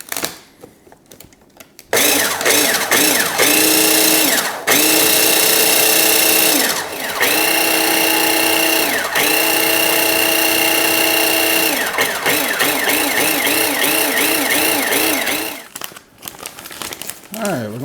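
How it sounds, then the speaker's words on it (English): A blender grinds dehydrated eggs into powder in loud, whining motor runs that start and stop several times, with brief pauses between pulses and a rattling, crinkly churn of dry pieces. "let's put this lid on and we're going to grind it down"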